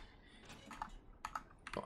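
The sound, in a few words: typing on a computer keyboard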